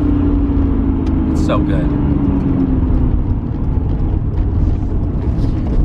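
Nissan Skyline R33 GT-R engine on the move, a continuous loud drone with a gently falling pitch from inside the car, while someone speaks briefly over it.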